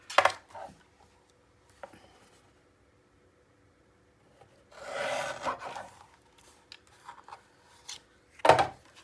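Paper for a mini album page is trimmed in a few short rasping strokes, separated by quiet gaps, close and fairly soft, with one longer scraping pass in the middle.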